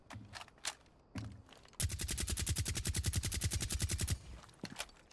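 A suppressed automatic rifle firing in Rainbow Six Siege, a few short bursts followed by a long, even stream of muffled rapid shots lasting over two seconds, close and fairly quiet, with no talking.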